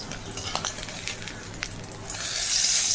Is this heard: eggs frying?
yes